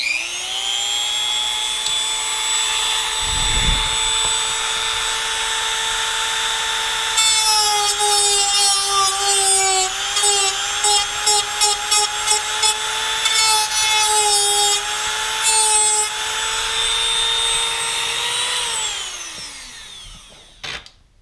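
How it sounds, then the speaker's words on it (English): A Dremel cutoff wheel cuts into a truck bed with a steady, loud high-pitched whine. The grinding runs for about eighteen seconds and turns rough and chattering partway through before the tool spins down. "if you use a cutoff wheel on a Dremel, it goes really fast"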